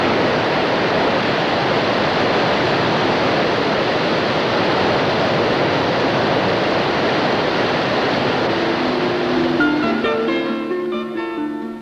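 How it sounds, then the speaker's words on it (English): Water released from Llyn Brianne dam rushing in a loud, constant roar, with music rising over it in the last couple of seconds. "more water is automatically released at Llyn Brianne"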